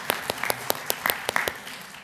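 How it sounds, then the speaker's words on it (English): A church congregation claps briefly during a morning Advent service, a sparse scatter of individual claps from several people spread across two seconds at moderate distance. "So I think Adam deserves a clap this morning."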